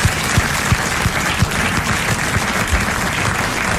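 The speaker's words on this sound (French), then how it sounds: "Nous l'applaudissons" Studio audience of a French radio game show applauding a contestant who just won 1000 francs, steady dense clapping with a few sharper claps standing out, close and loud with no talking.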